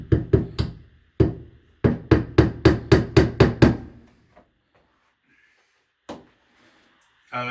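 Hammer driving nails into the liner of a shower pan, a quick run of sharp, close strikes in an irregular rhythm, then silence broken by one more blow and a brief noise at the end.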